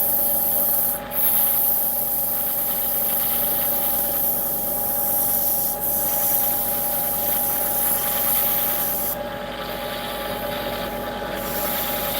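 Steady, continuous abrasive sanding drones on at a constant loud level, with brief high hissy bursts near the start and end.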